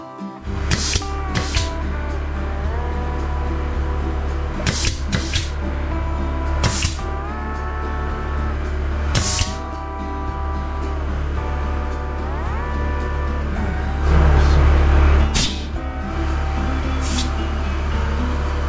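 A pneumatic finish nailer fires into ceiling trim pieces during a garage makeover: sharp, separate snapping shots every couple of seconds over a steady tonal hum, with a brief low compressor rumble near the end.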